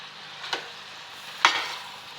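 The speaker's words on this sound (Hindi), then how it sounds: "अब इसको मिक्स करेंगे" A spoon scrapes and stirs black chickpea masala in a pan, two distinct stirring strokes about a second apart over a faint background hiss.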